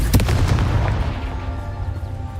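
Confringo fire blast spell in Hogwarts Legacy on PS5, a booming explosive burst with a rumbling low-heavy tail that fades over a couple of seconds.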